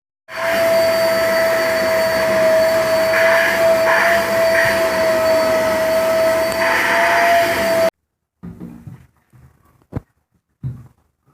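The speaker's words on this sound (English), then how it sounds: "take the vacuum with the hose and clean all those like that" A vacuum cleaner with a hose, cleaning a dusty ceiling fan, roars steadily with a high whine for about eight seconds, then cuts off, leaving a few scattered knocks and rustles.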